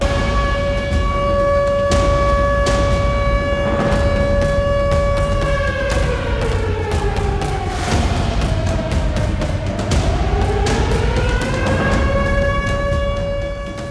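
Civil defense sirens wailing across Russia during a nuclear war drill, a loud continuous siren tone that slowly falls and rises again, sounding steadily throughout with no talk.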